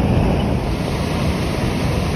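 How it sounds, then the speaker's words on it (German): An artificial waterfall at a lake in Saudi Arabia, a loud, steady broadband rush of falling water with some wind noise, continuous and close. "Sind wir an diesem wunderschönen Lake mit diesem künstlichen Wasserfall."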